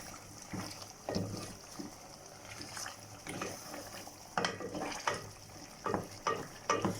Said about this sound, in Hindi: आप टमाटर को इस तरह से हल्का हल्का चम्मच की मदद से प्रेस कीजिए